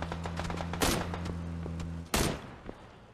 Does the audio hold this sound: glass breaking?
no